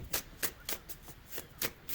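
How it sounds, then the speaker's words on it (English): Tarot cards riffle-shuffled up close in a steady rhythm, about seven quick papery bursts evenly spaced, with no talking. "I've been shuffling for a while this afternoon, just getting the cards all cleaned out"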